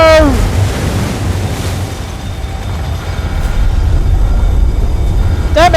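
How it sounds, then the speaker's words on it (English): Rushing floodwater in the video game Guild Wars 2, a loud, steady broadband roar of surging water filling the space throughout, with faint tonal alarm-like sweeps at the start and end. "Damn it, it's starting to flood!"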